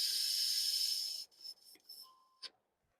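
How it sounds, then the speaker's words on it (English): Spraying out an airbrush to clean it while building an Airfix 1:72 scale Avro Vulcan model gives a steady hiss of air for about a second, followed by a few short faint sputters and one final brief burst, quiet and close. "Well, just cleaning out my airbrush."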